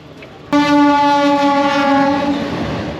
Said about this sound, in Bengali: ঝড়ের গতিতে একটি মালবাহী ট্রেন চলে আসছে